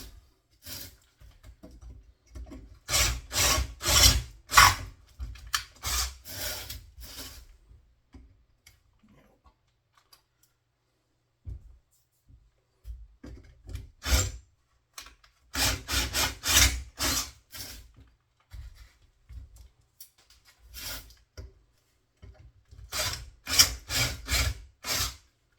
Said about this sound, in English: let me go get a drill